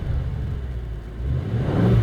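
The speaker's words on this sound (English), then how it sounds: "You've got no obstruction with that exhaust out the back, and it just sounds brilliant." A Bentley GTC V8S convertible, roof down, rumbles along with a deep low exhaust note that builds steadily as the engine revs rise toward the end, heard from inside the car with no talk.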